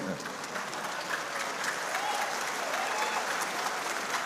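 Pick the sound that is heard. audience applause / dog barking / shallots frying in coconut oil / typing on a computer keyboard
audience applause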